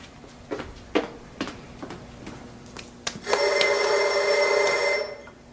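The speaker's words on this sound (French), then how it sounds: "Le téléphone, c'est pour vous." A telephone rings with a steady electric bell in a quiet indoor room, sounding clearly and alone after a few faint knocks and movements.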